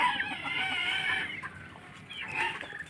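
A rooster making drawn-out, throaty clucking calls close by, continuous over a few seconds with a brief dip in the middle.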